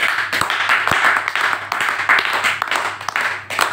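A marketing seminar audience claps loudly and somewhat unevenly, the applause swelling and dipping in bursts with individual sharp claps standing out, close and energetic.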